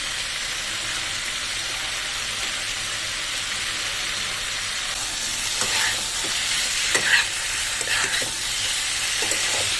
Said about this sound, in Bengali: ভালো করে মিক্স করে কষে নেবো। আর এই যে চিংড়ি মাছটা যে ভেজে রেখেছিলাম, সেই চিংড়ি মাছটার মধ্যে দিয়ে দেবো।